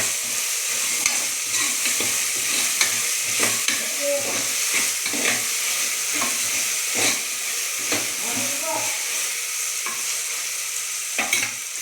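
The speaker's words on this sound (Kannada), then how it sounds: "ಈಗ ಮಿಕ್ಸ್ ಮಾಡ್ಕೊಳ್ಳೋಣ." A spoon scrapes and knocks repeatedly in a pan while avarekalu beans fry for tomato bath, the clicks irregular over a steady close hiss of sizzling.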